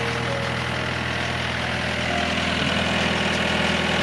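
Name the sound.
diesel water pump engine running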